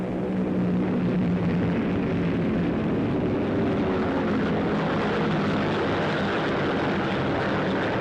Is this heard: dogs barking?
no